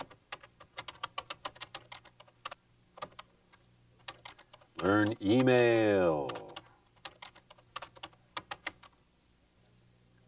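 Typing on a home computer keyboard, a quick uneven patter of key clicks close by, broken midway by a short spoken phrase before the tapping resumes.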